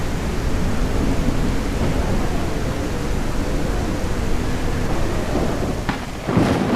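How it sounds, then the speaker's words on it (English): Steady heavy rain pours down in a video game thunderstorm with a deep rolling rumble of thunder, loud and continuous, with a couple of brief sharper noises near the end. "Maybe the storm will freaking pass"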